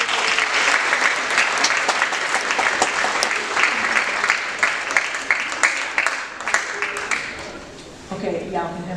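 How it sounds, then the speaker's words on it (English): An audience at a school academic awards ceremony claps in loud, sustained applause with dense overlapping hand claps, thinning near the end as a voice begins speaking. "Round of applause for you."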